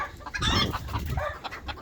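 A handsome purebred rooster, kept among ornamental chickens, clucks in a couple of short close calls, loud and alone without talk.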